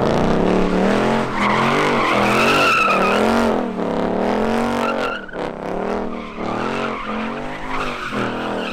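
Car spinning out, with loud continuous tire squeal and skidding under a revving engine that rises and falls through the whole stretch, close and dominant.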